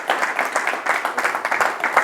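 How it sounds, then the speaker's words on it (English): Audience applause in a lecture hall after a talk, a dense stretch of clapping from a crowd that holds steady for about two seconds. "Can we have another round of applause?"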